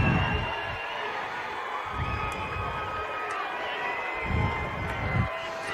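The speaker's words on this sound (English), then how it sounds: "I think I heard the girls, the women's soccer team over there cheering" Fans of a women's soccer team cheer and whoop from across a stadium during a men's college lacrosse game, with several swelling bursts rising over a steady, distant crowd roar.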